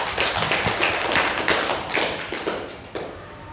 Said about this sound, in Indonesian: Beri tepuk tangan untuk Farel.